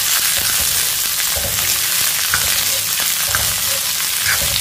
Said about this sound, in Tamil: நல்லா அடுப்பு வந்து மீடியத்தில் வச்சு நல்லா வதக்கிடுவோம்